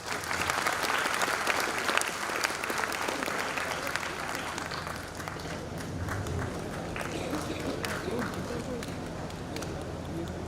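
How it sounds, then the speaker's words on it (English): Sustained audience applause at a college engineering induction ceremony, a dense, steady wash of many hands clapping that carries on loud throughout with slight easing midway. "Please, big round of applause"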